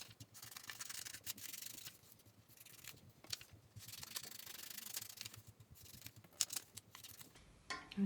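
Scissors cutting paper shapes such as rectangles, squares, circles and triangles, heard as close, repeated snipping and crisp paper rustle in quick runs with short pauses.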